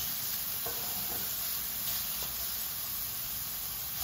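Chopped onion and garlic fry steadily in a pan while a sausage dish is cooked, giving a continuous close sizzle with a light stirring scrape and no talking.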